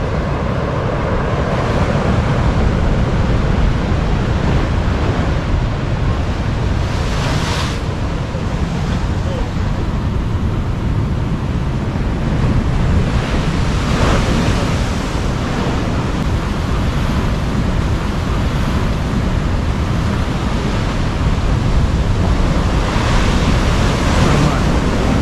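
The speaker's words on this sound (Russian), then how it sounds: "Бегают большие волны." Big storm waves break continuously on a pebble beach at Alushta, a steady loud wash of surf with periodic crashes and rattling pebbles over a long stretch.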